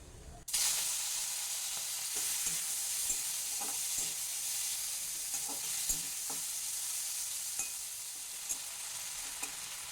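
Small prawns, washed and rubbed with salt and turmeric, sauté lightly in hot oil for a Bengali ash gourd dish, a steady close sizzle with a few soft spatula stirs and scrapes ticking through it.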